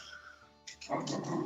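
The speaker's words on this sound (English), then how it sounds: "Apparently my dog sees deer in the backyard." A pet dog in a house growls at deer seen in the backyard, a low, rough sound mixed with short whimpering noises, fairly faint and close, with breathy sounds around it.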